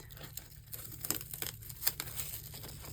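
Paper wrapping on a subscription-box planner item being torn and crinkled off by hand, a quiet close-up series of short rips and rustles with no talking.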